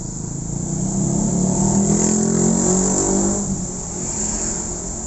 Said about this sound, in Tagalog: Ayan, sobrang traffic.